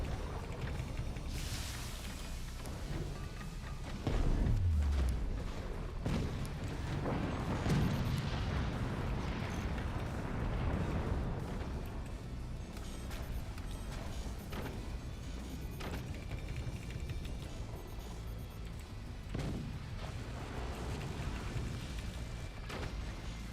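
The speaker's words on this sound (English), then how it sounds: "This guy's got 3 cannons, and they're shooting me." Repeated heavy cannon blasts in the naval combat game Forts, with cannons on an enemy boat firing several booming shots amid continuous battle rumble and scattered impacts.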